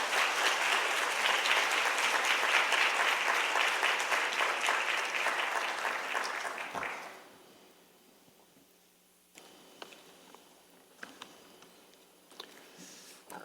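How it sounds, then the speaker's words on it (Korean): A young adults' church congregation breaks into loud, sustained applause to welcome the pastor, dense clapping for about seven seconds before fading to a quiet hall with a few faint scattered sounds. "우리 목사님 모실 때 환영의 박수로 모시도록 하겠습니다"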